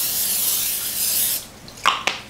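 Cooking spray hisses steadily onto a waffle iron for about a second and a half while chicken and waffles are made for breakfast, followed by two short clicks.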